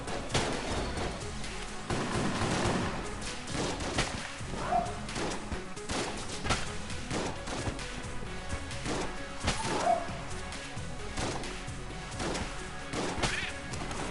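Repeated shotgun blasts in the game Enter the Gungeon, sharp crashing shots at irregular intervals over a busy background of game sounds.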